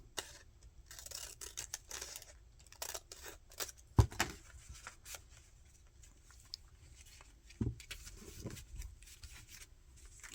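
Scissors cut through a paper envelope at close range in a scattered run of quiet snips and rustles, with one sharper cut standing out partway through.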